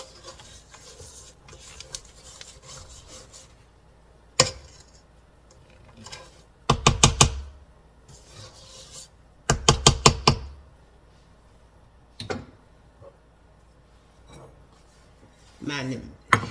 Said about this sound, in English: Move this around again so I can get the back side of this mixing bowl, and try to scrape the bottom of it too.